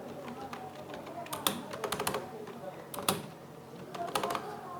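Bursts of computer keyboard typing, clustered clicks in short runs spaced across the stretch, moderately close, with faint talk murmuring underneath.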